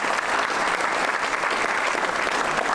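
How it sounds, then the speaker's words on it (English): A membership meeting audience applauds its presenters with a thick, sustained burst of clapping, loud and even from start to end. "So let's have a round of applause for our presenters."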